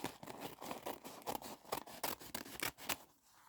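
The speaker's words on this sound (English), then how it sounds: "Get the old scissors out." Scissors cut through paper for a junk journal in a quick series of crisp snips and rustles, close and fairly loud, with a short pause at the end.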